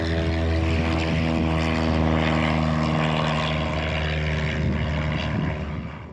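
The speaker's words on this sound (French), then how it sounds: "Des avions quittent l'île, les uns après les autres." Propeller airplanes taking off one after another from the airfield on the Île d'Yeu, a loud, steady droning engine roar with a strong hum that holds throughout and eases slightly at the end.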